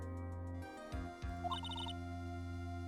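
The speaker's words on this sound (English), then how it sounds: "What a familiar ringtone." A phone ringtone plays alone at moderate level, a short repeating electronic melody of bright tones over a steady low hum, with a couple of soft thumps in the middle.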